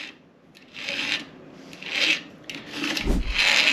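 Hand file rasping across a damaged chainsaw tooth on a manual sharpener, four slow back-and-forth strokes with a soft thump near the end, close and dry with no voices.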